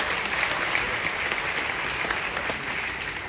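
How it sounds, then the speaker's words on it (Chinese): Audience applause at a business talk, a steady wash of clapping from a crowd, moderately loud and sustained throughout without any voices over it. "值不值得再来一个掌声？"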